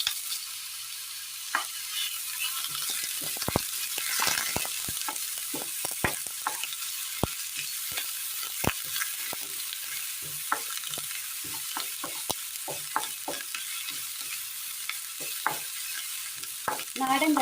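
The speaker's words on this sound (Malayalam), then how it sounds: "കടുക് പൊട്ടി വരുമ്പോൾ ചതച്ച് വെച്ചിരിക്കുന്ന ചെറിയുള്ളി അല്പം ഇട്ട് കൊടുക്കാം." Crushed shallots fry with popped mustard seeds in coconut oil, giving a steady close sizzle with scattered sharp clicks and taps as they are stirred in the pan.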